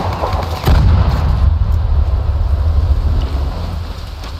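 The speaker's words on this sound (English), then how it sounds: "I could just toss a grenade." A grenade blast in the Arma 3 military game sets off a deep, booming thud near the start, and its low rumble rolls on steadily over a windy, noisy battlefield background.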